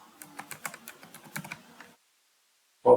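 A password is typed on a computer keyboard in a quick burst of light key clicks for about two seconds, followed by silence and one short louder tone.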